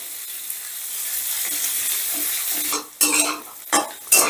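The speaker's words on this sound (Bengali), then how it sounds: "এবারে পনিরটাও আমি হালকা লাল করে ভেজে নেব" Steady frying sizzle in a pan with light stirring, followed by a few louder scraping clatters of a utensil near the end.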